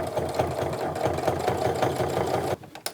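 A sewing machine top stitches a fabric tote bag, running in a quick, even mechanical chatter up close for about two and a half seconds before stopping, followed by a few faint clicks.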